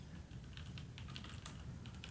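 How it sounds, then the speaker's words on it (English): Mechanical keyboard with brown switches typed on in quick, uneven bursts of close clicky keystrokes, fairly quiet and without talk. "So I can feel a slight bump when I press these keys. So I am pretty sure that these are browns."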